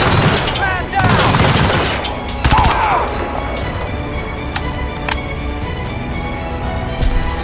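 Gunfire and shattering impacts crackle through a chaotic firefight in the video game Crysis 2 Remastered, with rapid bursts and sharp cracks mixed under shouted voices and battle noise.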